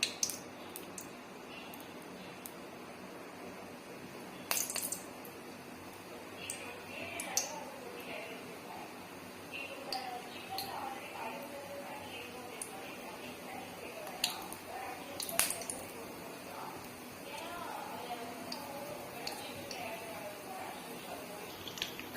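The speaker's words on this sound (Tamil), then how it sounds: "கடுகு நல்லா வெடிச்சு வரணும்" Mustard seeds and urad dal pop in about two ladles of hot oil, with sharp, scattered crackles and snaps at irregular intervals over a faint background hiss. The sound is quiet overall, with soft voice-like murmuring in places.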